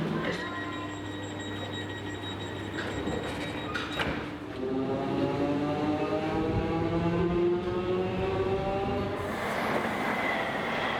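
A train at Ilford Station on the TfL Rail line, heard close as doors sound, then the train pulls away with a rising electric motor whine and rolling rumble.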